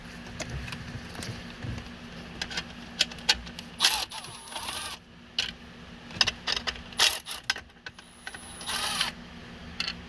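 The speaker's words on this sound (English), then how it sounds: "I'm going to roll these screws out and we'll take a look at the module." Screws are backed out with a 7 mm socket to free a seat heat and cooling module in a 2011-2016 Ford F250/F350, with ratcheting clicks, metallic rattles and taps close by in irregular bursts.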